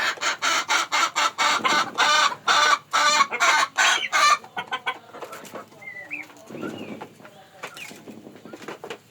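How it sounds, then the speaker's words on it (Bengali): Loud, rapid clucking bursts in a steady rhythm from a Fayoumi rooster, then softer scattered clucks and squawks from a Fayoumi flock close by. "এটা মোরগ"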